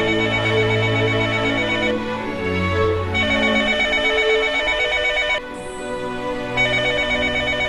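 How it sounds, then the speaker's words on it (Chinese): A telephone rings continuously with a repeating electronic trill, loud and steady, over a soft musical background without speech. "怎么不接电话呢？"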